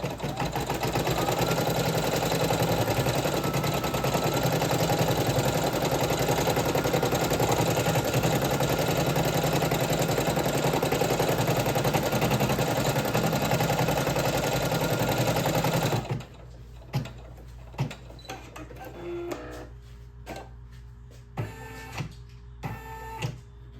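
Single needle embroidery machine running a placement stitch for a 3D puff patch, a steady loud whirring drone that holds for about sixteen seconds before stopping, followed by scattered softer clicks and taps.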